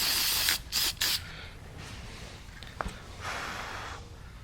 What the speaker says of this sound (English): it goes on in a spray, and you just spray it on there a little bit